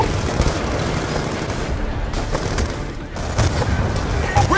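Dense gunfire from a Call of Duty: Black Ops 2 battle under sniper attack at an overpass, with continuous overlapping shots, booms and a steady roar of combat throughout, loud and close, with shouted voices mixed in.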